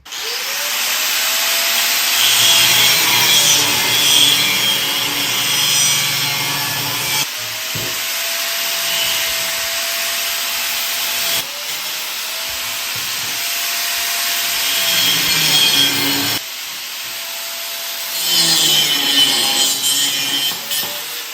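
Metal pieces for a bee hive stand are cut with a power saw, a loud continuous harsh cutting roar in several long passes separated by short breaks, with no talking.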